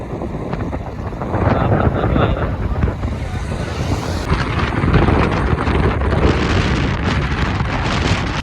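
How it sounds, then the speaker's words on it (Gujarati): Strong wind buffets the microphone in a continuous low roar at a temple, swelling and rumbling throughout. "સરસ મજાનો પવન એટલો આવતો હોય છે"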